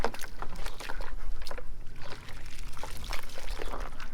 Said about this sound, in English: Okay, now we're gonna rinse it off.